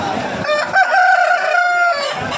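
Roosters crow loudly and up close at a busy rural chicken market during the Sankranti festival season, one long drawn-out cock-a-doodle-doo over the fowls' background clucking.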